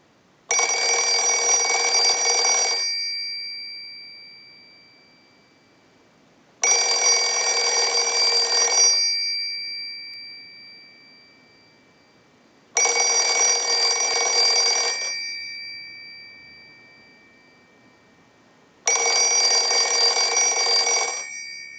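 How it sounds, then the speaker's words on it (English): An Automatic Electric 50 rotary wall telephone bell, driven by a line analyzer's ring cycle, rings loudly in four long bursts, each followed by a pause of several seconds, with no voices. "use the analyzer and send a ring cycle like you were getting a call"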